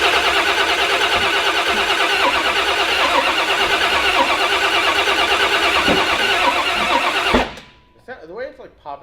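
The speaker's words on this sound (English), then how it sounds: "All right, try to crank it again." Starter on the Red Lobster car cranks over steadily and loudly, a dense churning drone with engine popping sounds, running nearly eight seconds before cutting off abruptly, followed by brief voices.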